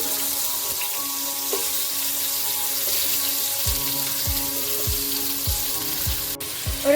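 Sliced large onions sizzle steadily in coconut oil in a hot pan, a loud, even frying hiss throughout, broken by a few low knocks in the second half.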